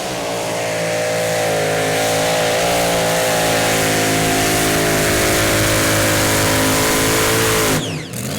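The Swedish pulling tractor Burning Baby roars at full power during a competition pull at the 2015 European Tractor Pulling Championship in Brande, Denmark, a loud, steady, dense engine howl that holds for the whole pull and cuts off sharply at the end.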